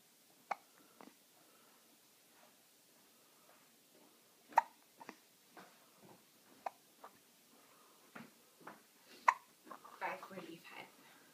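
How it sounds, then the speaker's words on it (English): Hiccups from a person, several short sharp catches spread unevenly through the clip, close and fairly quiet, mixed with soft background voices. "you got the hiccups?"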